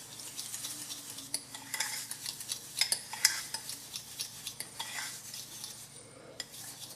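A fork scraping and clinking against a bowl while stirring a homemade coffee and sugar body scrub with oil, in quick irregular strokes, close and fairly quiet.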